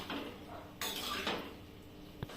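Potatoes and peas are sautéed in a pan, heard as a few brief metallic scrapes and clinks of a utensil against the pan, quiet and close, with no talk.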